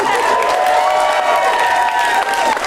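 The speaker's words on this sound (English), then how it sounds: "Give them another round of applause." A theater audience at an improv comedy show breaks into loud, continuous applause mixed with cheering and whoops, sustained for the whole stretch.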